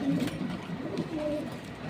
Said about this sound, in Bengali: লাল রেসার পাইট মাদি আছে একটা।